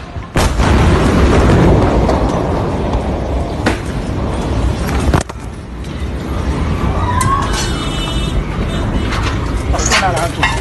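The large explosion in Beirut as a loud, sustained roaring boom with rumbling blasts and crackling debris, captured close and overwhelming, with voices faintly mixed in.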